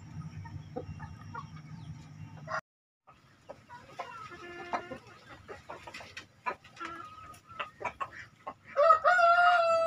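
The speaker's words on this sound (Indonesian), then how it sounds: "Ini ada empat jago muda kita yang diumbar." Free-range village chickens in a backyard breeding setup, with close soft clucking, scratching and rustling, a brief pause, then a loud rooster crow rising at the very end.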